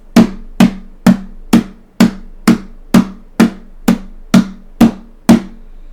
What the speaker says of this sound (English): If we have a 1/4 beat, it's going to sound something like this.